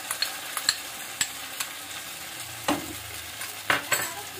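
Spoon scraping and clinking as fried Egg 65 is stirred and mixed with chili powder, salt and sauce, close-up light sizzle underneath, with a few sharp taps of utensil on pan; no talking.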